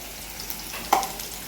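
Potatoes fry in a pan of hot oil for a mushroom-head fish dish, a soft steady sizzle with one brief stirring clatter in the middle, no talking.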